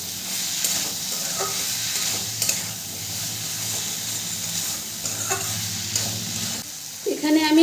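Okra frying in a pan is stirred after salt goes in, a steady sizzle running under repeated scraping strokes of the spoon, close and continuous for several seconds.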